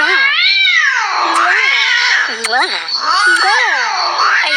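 A cat gives loud, close, drawn-out meows and yowls, several wavering cries in a row with almost no pause between them.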